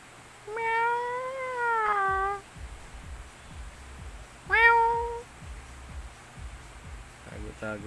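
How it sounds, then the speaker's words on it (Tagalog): A cat calls out with two meows: a long, drawn-out wavering one followed after a pause by a shorter one. Both are close and clear over a faint background of soft thumps, with no talk. "Sipsilip ang pusa."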